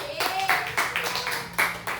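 A school class claps hands for a student, a few quick bursts of clapping in uneven rhythm, close and fairly loud, with a voice speaking over it.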